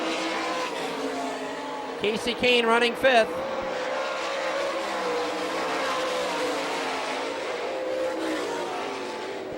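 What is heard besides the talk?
sprint race cars racing on dirt track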